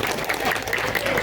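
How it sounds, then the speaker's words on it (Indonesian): An audience at a Muhammadiyah anniversary religious gathering gives a short burst of clapping, brief and fairly close, with some crowd noise mixed in. "Tepuk tangan boleh."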